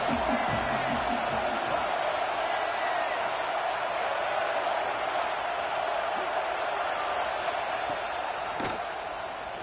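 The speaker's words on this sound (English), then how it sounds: "Big third down as the crowd gets behind this defense." A football stadium crowd roars steadily throughout, a dense continuous wash of cheering and noise that holds at a high level without a break.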